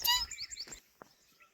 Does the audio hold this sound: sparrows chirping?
yes